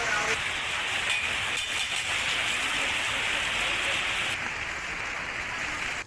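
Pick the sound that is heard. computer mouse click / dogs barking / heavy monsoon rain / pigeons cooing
heavy monsoon rain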